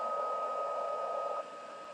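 Heat tool blowing over a pink craft layer to melt it: a steady, close whirring hiss with a faint tonal whine, level for the whole stretch and dropping slightly near the end.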